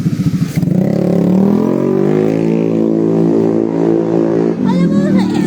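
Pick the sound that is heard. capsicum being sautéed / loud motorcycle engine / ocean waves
loud motorcycle engine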